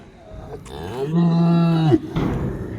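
A large dairy cow gives one long, loud moo close by, rising and then breaking off, with a few softer lowing sounds around it.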